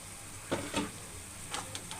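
Curry leaves sizzling in hot oil in a pan, a faint soft hiss broken by a few brief stirring scrapes and taps, quiet and close with no voices.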